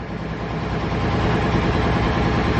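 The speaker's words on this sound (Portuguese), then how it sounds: "a moto tá fazendo barulho, hein?" Loud 330cc Maiki motorcycle engine idling on the street, a steady, dense rumble held close and unbroken throughout, rising slightly in level toward the end.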